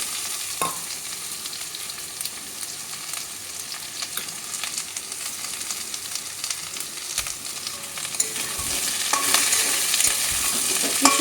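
Onion frying in a pan with little oil, a steady sizzle with stirring scrapes and clatter, growing louder toward the end, no talk.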